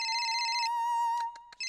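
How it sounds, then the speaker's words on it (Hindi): A phone ringtone plays a steady electronic tone with a bright, buzzy chiming layer. Short, clipped repeats follow near the end, loud and close, with nothing else audible. "रिंग पर रिंग बज रही है"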